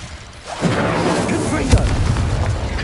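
Fiery spell blasts from Confringo and Incendio in the game Hogwarts Legacy: a loud, rumbling burst swells in after a quiet start, then a sharper boom hits midway, with continuous crackling roar and a voice speaking over it.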